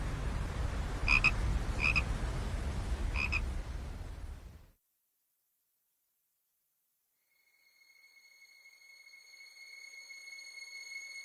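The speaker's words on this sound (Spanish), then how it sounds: "la música que estos animalitos hacen en la ribera del río Vístula" Frogs on the bank of the Vistula river croak in a dense, steady chorus with repeated sharp calls, which cuts off into silence before sustained bright tones rise in.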